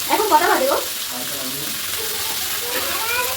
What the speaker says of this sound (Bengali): ঝটপট একটু কষে নিয়ে তারপরে জল দিয়ে দেব